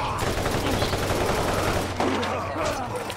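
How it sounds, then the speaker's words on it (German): Rapid Borderlands gunfire crackles in a dense burst over a low steady hum, loud and close. "Ein Schuss, Kopfkill."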